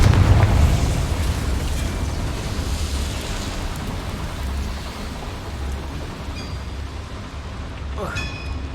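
Confringo fire spell explosion in the Hogwarts Legacy video game, a loud burst at the start that leaves a long roaring, crackling rumble, with a few short magical tones and a whoosh near the end.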